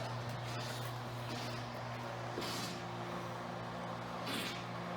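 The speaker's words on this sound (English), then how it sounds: "That noise you hear is a submersible pump." A submersible pump draws water out of a flooded elevator shaft on a building site, giving a steady low mechanical hum with constant tonal drone and faint hiss, continuous and moderately near.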